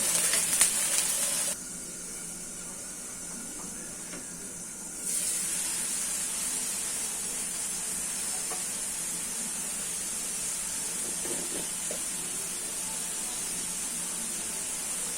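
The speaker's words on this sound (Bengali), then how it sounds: "সবগুলো মশলা আমি ভালোভাবে কষিয়ে নেব" Spices sizzle and fry in hot oil in a pan while being sautéed for a tilapia fish curry, a steady close hissing crackle that drops briefly, then returns and continues evenly.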